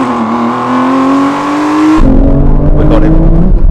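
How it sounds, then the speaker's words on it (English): Aston Martin engine revving hard during a drag race between a Valkyrie, Vanquish and V12 Vantage, a loud steady rising drone that cuts into a rougher, deeper roar partway through, close and dominant. "Rev it all the way."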